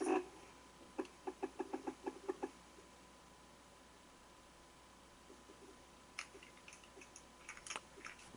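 Quick, light clicks of a computer keyboard as an answer is typed, a short burst of about ten keystrokes early on followed by a few scattered taps against a quiet room.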